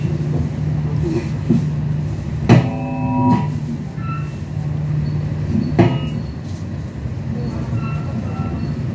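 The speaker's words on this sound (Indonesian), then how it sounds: "Kereta api akan sebentar lagi akan tiba di stasiun Kebumen." The Kertanegara executive-class train pulling into Kebumen station, a steady low rumble of the rolling carriages with several sharp metallic clanks and a brief squeal partway through, heard from inside the coach.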